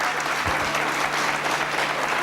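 Miners at a meeting give a short burst of dense applause, close and steady throughout, with a brief voice audible under the clapping.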